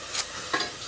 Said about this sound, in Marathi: एवढा सगळा मसाला आधी परतून घ्यायचा डायरेक्ट तेलात